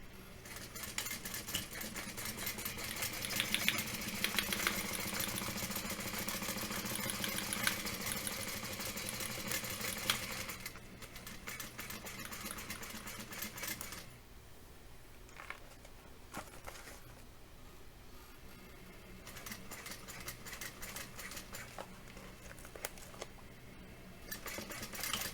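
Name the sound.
sewing machine stitching a tote bag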